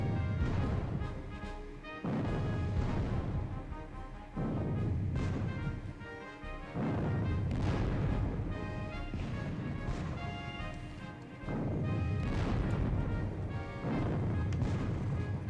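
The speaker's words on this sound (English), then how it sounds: "They are pounding that one battery hard." Artillery fire in the WDS Battle of Borodino war game, with heavy booming bursts at regular intervals of about two seconds, each followed by rumbling decay, loud and continuous throughout with no talk.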